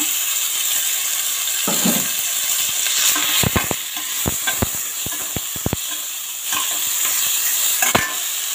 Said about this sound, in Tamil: இப்போ நம்ம ஆனியன், டொமேட்டோ, பூண்டு, பச்சை மிளகாய் எல்லாம் எடுத்து வச்சுருக்கோம். அதை இதில் சேர்த்து நல்லா வதக்கிக்கலாங்க.